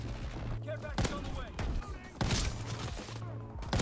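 Heavy PTRS-41 anti-tank rifle shots in a multiplayer shooter game, several loud booming cracks spaced about a second apart with muffled battle noise between, as a voice talks over them.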